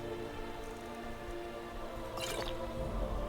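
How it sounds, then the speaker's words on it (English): Water trickles and splashes briefly as a water skin is dipped and filled at a stream in a video game, a short liquid burst over a steady ambient game background with no talking. "let's get our water skin filled"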